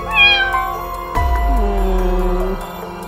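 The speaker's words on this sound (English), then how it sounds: "Whose cat strayed in here?" A cat meows in the Roblox game Brookhaven, two drawn-out synthetic meows in a row, clear and close over a soft game music bed.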